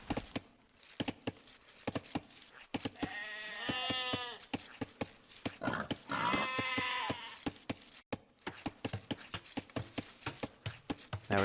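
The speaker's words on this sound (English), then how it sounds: "killing that sheep there" Sheep bleat twice in an Age of Empires match, long wavering cries set among a steady patter of sharp clicks, taps and chopping sounds from the game.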